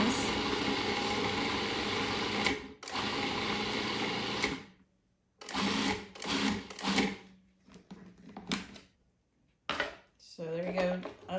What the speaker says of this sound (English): I love a food processor because if I had to chop all that by hand, that would be a lot of work.